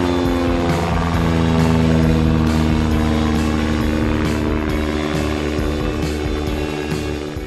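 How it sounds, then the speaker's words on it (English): A propeller airplane engine roars loudly and steadily during takeoff at a fly-in, its droning pitch shifting slightly as it powers up, then easing a little at the end. "See if we can't catch an airplane taking off out here and filming."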